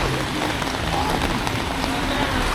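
Steady, loud rain pouring at Maasin River in Siargao, a constant wash of drops hitting water and surfaces with no pauses.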